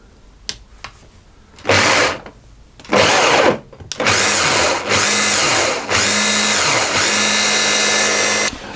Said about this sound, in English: I'm simply going to blitz those until they are all pureed smoothly.